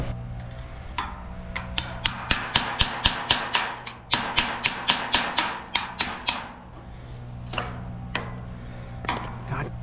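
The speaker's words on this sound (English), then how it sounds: "time to get the hammer, put my tools away, smack these lights off." Rapid series of sharp metallic hammer blows knocking lights off a 5x8 trailer, struck in quick bursts with brief pauses between runs, close and loud against a steady low hum.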